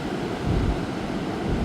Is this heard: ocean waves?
yes